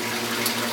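Water flows steadily through the chamber of an aquarium calcium reactor, a constant close gurgling rush with a low pump hum underneath. The sound is brief and heard alone.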